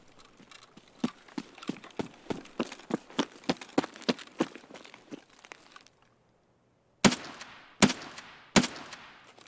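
Gunfire in a first-person shooter, a rapid run of sharp, fairly close shots through the first six seconds, then a pause and three louder, evenly spaced single shots, with no talking.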